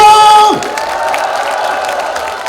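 After an amplified voice on a loudspeaker, a crowd in a hall at a political rally in Yeongju, South Korea, answers with loud cheering, shouts and clapping that continue steadily to the end.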